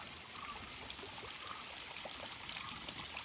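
Water flowing down over a rock at a small hollow near Kuttikkanam, a soft continuous trickling stream, faint and steady with no voices.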